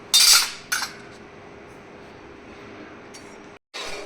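A silver panchpal lamp tray is handled, giving a few sharp metallic clinks and clatters, two early, then a quiet gap, then two more near the end, with no talking.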